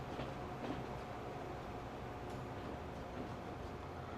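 A train running in the Transport Fever 2 video game, a steady rumbling roll with faint rhythmic clatter, continuous and fairly quiet with no voices.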